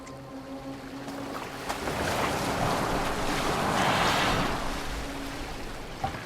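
A boat glides over open water in Assassin's Creed Valhalla, with a soft rushing wash of waves and wind that swells louder through the middle and then eases, plus a couple of faint creaks and knocks.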